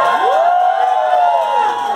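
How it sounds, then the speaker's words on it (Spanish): An audience at a cosplay contest cheers loudly, with high whoops and shouts blending into a dense, sustained roar heard from within the crowd. "Fuerte el aplauso."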